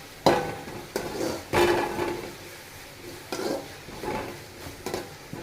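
Ingredients for a Chennai-style fish curry sautéing in a pan, heard as a series of stirring scrapes and clatters against the pan over a low sizzle, close and moderately loud, with no talk.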